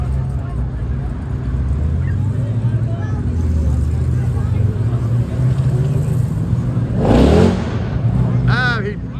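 Loud engine of a plum crazy purple Plymouth Cuda-style car at a cruise event, roaring steadily with a brief revving surge near the end, crowd chatter running underneath.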